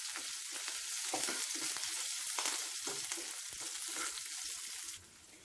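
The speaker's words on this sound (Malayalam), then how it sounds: "ഇതിലേക്ക് നമുക്ക് എടുത്ത് വെച്ചിരിക്കുന്ന പച്ചമുളകും അതുപോലെ വറ്റൽമുളകും കരിവേപ്പിലയും ചേർത്ത് കൊടുക്കാം." Green chillies, dried red chillies and curry leaves fry in hot oil for a brinjal moru curry, crackling and sizzling steadily and close. The sizzle drops away abruptly near the end.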